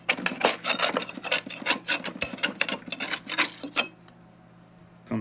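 A scraper rasps a plastic mulch plug off the underside of a commercial lawn mower deck: a quick series of close, loud, gritty scrapes in an uneven rhythm, then a brief quiet stretch.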